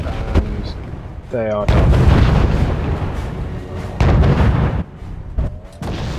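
Rapier anti-air missiles and artillery in Wargame AirLand Battle, heavy booms and sustained rumbling blasts in several loud bursts, with someone talking over them.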